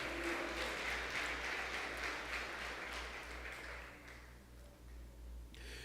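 A church congregation applauding the Lord Jesus, broad crowd clapping that holds steady and then gradually fades, moderately quiet over a low background hum.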